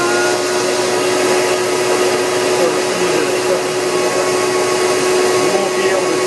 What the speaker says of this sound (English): This is to adjust the vacuum, so I can reduce the vacuum or increase the vacuum.